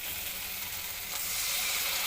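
Tomato, ginger and garlic spice paste sizzles steadily in a pan while being browned for a Bengali prawn curry, a close, continuous frying hiss with no voices.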